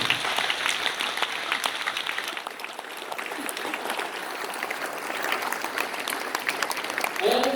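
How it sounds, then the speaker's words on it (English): Continuous applause from a sizable audience at an awards ceremony, even and steady throughout, with a brief faint voice near the end. "A round of applause, ladies and gentlemen."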